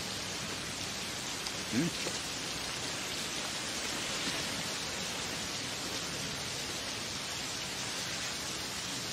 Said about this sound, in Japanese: 熱帯雨林みてえに降ってる。